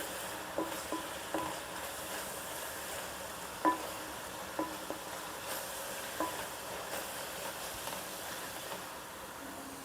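Chili powder being stirred into a sizzling red fish curry (erra melu chepala pulusu) in a pan, with steady frying hiss and a few soft scraping stir strokes, no talking.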